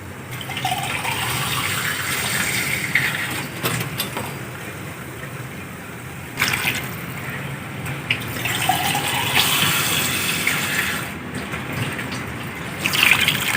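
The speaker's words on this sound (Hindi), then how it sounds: "अब मैं इसमें इतना पानी डालूँगी कि ये मटर भी गल जाए, इसमें आलू भी गल जाए।" Water pours and gushes steadily into a cooking pot holding peas and potatoes for a pulao, in several long pours with brief pauses between them, close and fairly loud.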